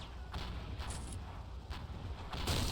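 Artillery fire in the World War II strategy game Men of War, heavy booms and blasts at varying distances over a continuous rumble of battle, with a louder burst near the end.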